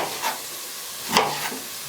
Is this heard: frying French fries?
yes